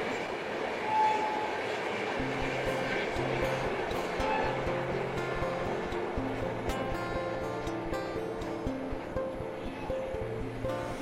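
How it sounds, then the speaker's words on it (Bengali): Train running on rails in Bengal, a continuous rumbling roll with rhythmic clatter and tonal hum, steady and fairly loud throughout, with a voice speaking over it. "রেলগাড়ির সুর তালে অবচেতন মন ছড়ার ছন্দে আজও বলে ওঠে, রেল কম ঝমাঝম"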